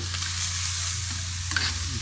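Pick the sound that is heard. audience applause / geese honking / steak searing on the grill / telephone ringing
steak searing on the grill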